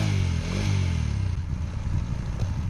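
A motorcycle engine runs steadily at close range, with a loud, rough mechanical drone. It was started after a diesel flush so the remaining oil could drain out.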